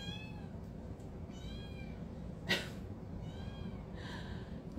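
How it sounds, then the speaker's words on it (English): Tabby cats meow faintly in the background of a quiet room, several drawn-out calls spread across the stretch, with one sharp brief knock partway through. "You guys are gonna hear meowing"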